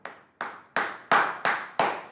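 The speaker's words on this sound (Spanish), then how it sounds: "Le aplaudo" Seven slow, sharp hand claps at a steady pace ring out one by one in a church setting, each clap clear and close with a short decay and no talk over them.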